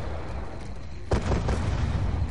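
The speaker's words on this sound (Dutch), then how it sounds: "Oh, explosies hier," An explosion in the shooter game Call of Duty Black Ops 2 during the final mission, a sudden loud boom about halfway through that leaves a rumbling tail over a low steady game background.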